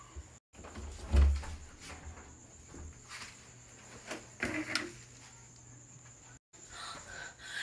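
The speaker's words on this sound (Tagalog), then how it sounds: "Ba't parang may bumukas na pinto?" A door creaks open in a quiet house, a soft low thud followed by faint scraping and creaking under a steady electrical whine and insect-like chirping.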